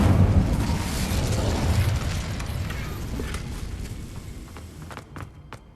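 An Incendio fire spell bursts in Hogwarts Legacy with a loud low rumbling blast that slowly fades, followed by a few sharp crackling pops near the end.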